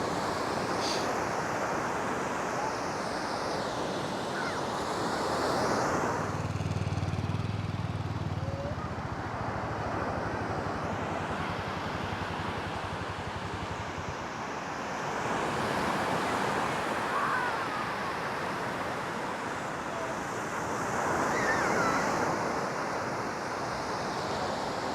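Surf and wind on Crystal Beach, Galveston Island, Texas: steady breaking waves wash in and recede in slow swells, with gusty wind buffeting the microphone throughout and no talking.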